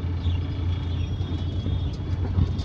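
A car pulls away as the brake is released on a beginner's first drive, heard from inside as a steady low engine rumble with faint rattles, no talking.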